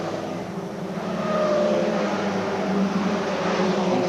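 Stock cars race around a speedway oval at a 1993 Spedeweekend meeting, a pack of engines roaring together in a loud, steady drone that swells as the field passes close by.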